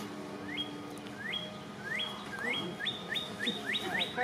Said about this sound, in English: The birds are joining in.